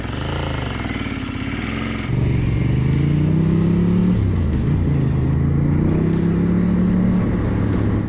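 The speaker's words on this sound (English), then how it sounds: "Let's put another few kilometers on this bike and head back to the workshop." Ducati 750 F1 Santamonica motorcycle riding on an open road, its engine droning steadily, then rising in a strong pull after about two seconds with rising and falling revs through gear changes, loud and close.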